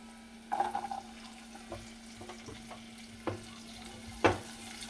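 Onion tossed into reused hot oil in a pan for gobi manchurian, giving a soft sizzle with scattered stirring scrapes and a couple of sharp clatters, no voices.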